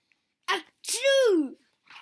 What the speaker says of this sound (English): Pigs make me sneeze!